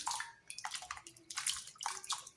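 Water splashes and pours in several short bursts as boiled potato fries are tipped from a strainer into a bowl of cold water, close and fairly quiet, with sloshing between pours.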